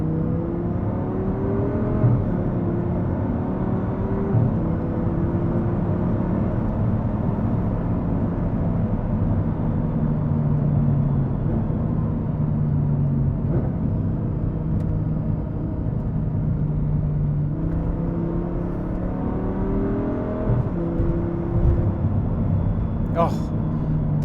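Audi R8 engine pulling hard, a deep rumbling drone with rising and falling pitch sweeps as it accelerates through gears, steady and loud throughout, with someone talking over it.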